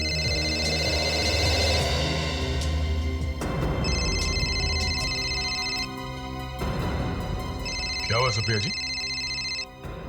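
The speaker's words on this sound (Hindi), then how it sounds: "आप फोन क्यों नहीं उठा रही?" A telephone rings in a Hindi TV crime drama, sounding in several repeated electronic ring bursts while people talk over it indoors.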